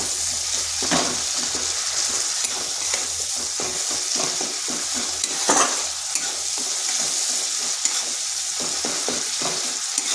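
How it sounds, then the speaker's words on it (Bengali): Masala with chili and coriander powder sizzling in a pan, frying steadily with scraping stir strokes and occasional louder clinks, a continuous close hiss throughout with no talking. "এরপর মশলাটা বেশ কিছুক্ষণ কষে নেব"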